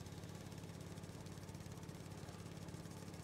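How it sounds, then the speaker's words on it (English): A mower cutting a field in Farming Simulator 19 gives a steady, droning engine hum with a low rumble, running evenly throughout with no talk over it. "I'm going to start by cutting this area off and mowing it."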